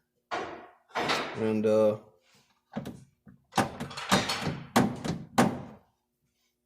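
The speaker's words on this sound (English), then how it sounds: "All that banging around is my wife unloading the back of it." Thumps and bangs of cargo being unloaded from the back of a GMC Savana 3500 van, several irregular knocks at close range with someone talking over parts of it.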